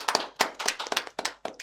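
A small audience at a campus gathering with visiting guests from Malaysia claps in scattered, uneven bursts for about two seconds. The sharp hand claps come close and fairly loud, with no talking over them.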